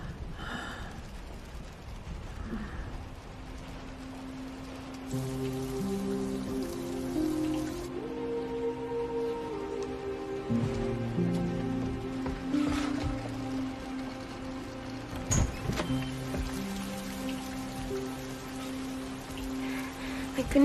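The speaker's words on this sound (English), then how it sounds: "It's starting to rain." Steady rain begins pattering on surfaces outdoors in a dramatic horror film scene, a continuous close hiss under sustained orchestral tones, with a faint breathy sigh or gasp.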